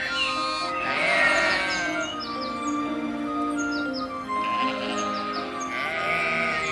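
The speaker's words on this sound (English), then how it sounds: "left for the mountains herding the sheep" Sheep bleat repeatedly in the mountains, several overlapping calls rising and falling, with birds chirping in the background; no talking.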